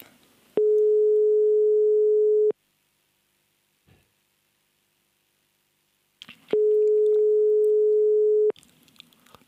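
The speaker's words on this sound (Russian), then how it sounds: "Багир Багирович, вот сейчас позвоним в Москву" Telephone line tones during a call to Moscow: two identical steady beeps about two seconds long, separated by roughly four seconds of near silence, loud and clean.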